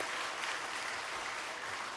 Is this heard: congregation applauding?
yes